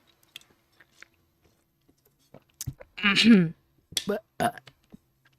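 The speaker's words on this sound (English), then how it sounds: "I don't know if y'all even heard me burp." A person burps once, a loud, low, gurgling belch lasting about half a second, with faint mouth noises before it and brief speech-like sounds right after.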